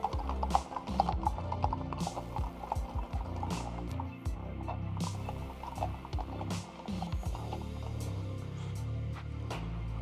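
A grey horse's hooves clip-clop in a steady walking rhythm, close by, with creaking tack and soft rustling underneath.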